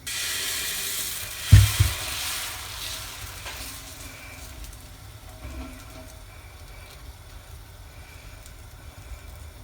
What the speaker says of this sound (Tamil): தோசை ஊற்ற போகிறேன்.